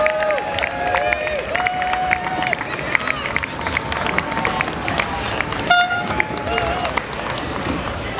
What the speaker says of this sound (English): Big cheer as they cross the line